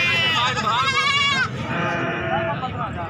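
A young goat kid at a livestock market gives loud, close, wavering bleats, one long call and then a softer one, over steady crowd noise.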